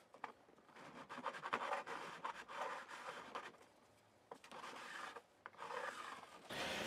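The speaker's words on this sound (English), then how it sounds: "with our cloth back 400 grit sandpaper, kind of going like a kind of clockwise and then counterclockwise and then straight line" Cloth-backed 400 grit sandpaper rubbed in circular and straight strokes while upgrading a Jazz bass, a dry, quiet rasping scrub in irregular bursts with short pauses, close and alone.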